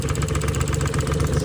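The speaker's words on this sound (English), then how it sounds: "it's idling at like probably 500 right now" Suzuki Alto Works CR22S small engine idling rough at very low revs around 500 rpm with a misfire, a steady uneven low throb with rhythmic pulsing, close and loud, no voices.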